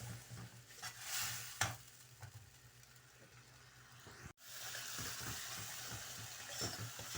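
Masala for seekh kofta frying in a pan, a soft, continuous sizzle with the scrape and knock of a spoon stirring at intervals, fairly quiet throughout with one brief drop-out.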